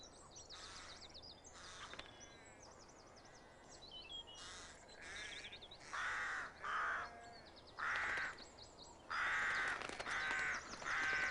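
A crow calls with repeated harsh caws at farmland where spilt grain lies on the ground and rooks nest. The calls come in separate bursts, fairly close, with no speech.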